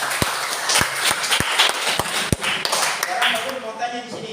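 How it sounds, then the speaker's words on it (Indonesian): A class of students claps together after a teacher asks for applause, a short burst of sharp, uneven hand claps near and loud, with classroom chatter and voices running underneath. "Tepuk tangan dulu."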